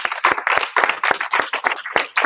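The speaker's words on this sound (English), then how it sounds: "So I'll give him a big round of applause." A small group of students claps rapidly and loudly in a classroom or martial arts session, a dense, steady patter of hand claps with no talking.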